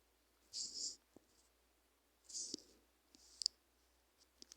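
Computer mouse clicks, a few small, sharp, quiet taps spaced irregularly in a near-silent room, mixed with faint brief rustles.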